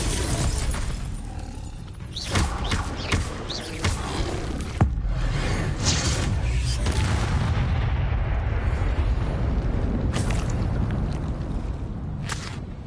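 An Incendio fire spell cast in the video game Hogwarts Legacy, a series of loud whooshing blasts and crackling bursts over a roaring, rumbling combat background, heard close up with no voices.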